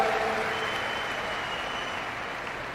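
Steady, moderately loud audience clapping in a large hall during a Save Soil public talk in Delhi, sustained and even throughout.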